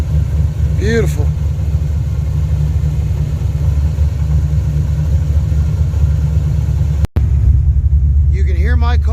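Deep, constant engine rumble fills the clip, loud and close, with a brief cutout near the end and faint voices briefly audible over it.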